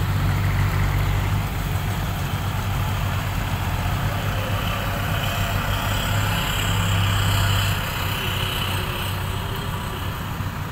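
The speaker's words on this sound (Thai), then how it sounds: "ตามมาด้วยขบวนของรถ" A procession of modified pickup trucks rolls by at a temple merit parade in Krasang, Buriram, with a steady low engine drone and idling hum. The sound is continuous and moderately loud, with a busy outdoor background and no speech.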